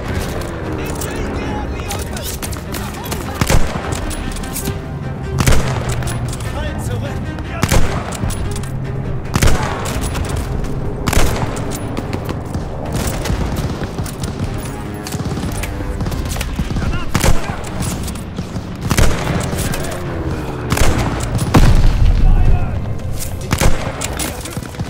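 Gunfire in the first-person shooter Call of Duty: Vanguard on PC: loud, repeated bursts of shots and sharp cracks over a continuous music and effects bed, with some explosions.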